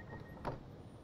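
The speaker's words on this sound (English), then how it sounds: "A little bit of a delay on the door noise there." Train doors close in a train simulator game on the West Coast Main Line at London Euston, a single brief, soft thud and slide over faint background hum.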